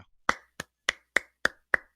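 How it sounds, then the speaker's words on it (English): Six quiet, polite golf claps spaced about a quarter-second apart, each a short dry smack with a brief decay. Close and soft, no talking. "I am golf clapping for you right now"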